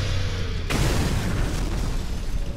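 A loud explosion bursts in Super Mario Galaxy, a dense roaring boom that swells suddenly and holds as a thick rumbling wash for a couple of seconds.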